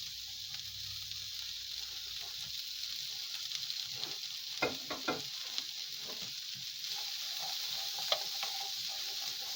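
Food fries on medium heat in a pan, a steady broad sizzle running throughout with a few louder crackles and stirring clinks near the middle, close and moderately loud, with no talking.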